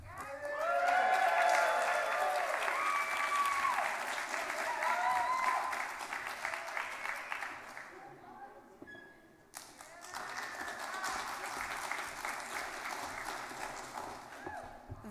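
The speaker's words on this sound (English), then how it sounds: "The two waves of applause is something that brings me a lot of joy about this place." Audience applause at a literary fellows' reading comes in two waves: a long burst of clapping with a voice over its start, a brief lull, then a second, softer round of clapping.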